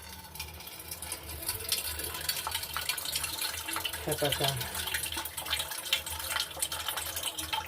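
Coconut water splashes and trickles steadily from a cracked coconut, a continuous liquid pour close by with faint speech mixed in.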